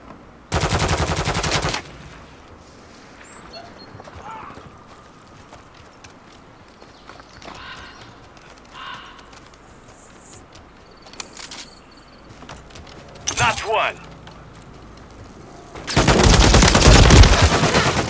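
Assault rifle gunfire in Call of Duty Modern Warfare 3 multiplayer, a loud short burst at the start, a few scattered sharp shots in the middle, and a sustained loud burst at the end over quiet game ambience.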